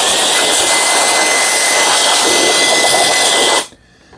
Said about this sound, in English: I love this little blower.